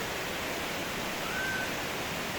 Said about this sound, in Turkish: köyünün üzerinde olan Gürlerik şelalesi